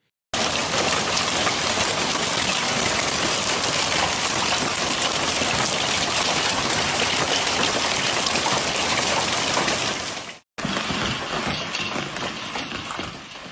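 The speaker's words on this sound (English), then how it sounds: "torrents of water mixed with hail rushing through the streets, sweeping along debris, leaves, and mud" Heavy rush of hail-laden water torrents flowing through city streets during a hailstorm in Cagliari, Italy, a dense, loud, continuous roar of pouring water and pelting ice that cuts off briefly near the end, then resumes slightly thinner.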